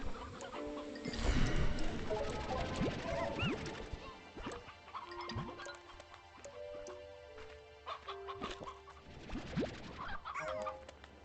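Candy hens in the Slime Rancher 2 video game cluck and squawk in scattered bursts, with several overlapping calls at first and sparser ones later, over a busy background of game sounds and chimes.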